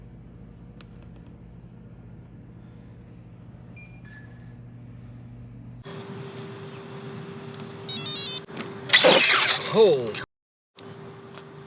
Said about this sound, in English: That's a weird whine. I think it's the motor.